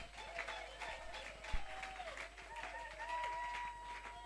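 A church congregation applauding the Lord during a sermon, a steady faint wash of clapping hands with a voice speaking over it.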